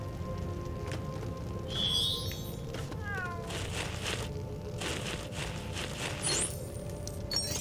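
A cat in LEGO Harry Potter meows several times in short rising calls, spread across the clip over a busy game background with patter like rain.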